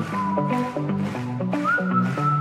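Live whistling on stage at a concert in Basel, a clear bright melody whistled over a band with steady drums and bass, sustained and prominent for the whole stretch.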